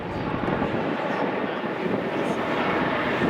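An RAF Chinook helicopter in a display at the 2019 RAF Cosford Airshow makes a spiral descent, producing a continuous, heavy, loud roar of rotors and engines mixed with wind buffeting.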